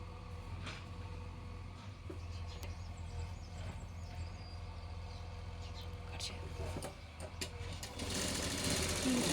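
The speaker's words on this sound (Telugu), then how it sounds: "ఇది కూడా అలాగే మన పాదం ముందు పెట్టుకొని ఇలా రౌండ్గా కుట్టుకోవాలి" A sewing machine stitching a long frock runs steadily and fairly close, its motor hum continuous throughout and growing louder near the end.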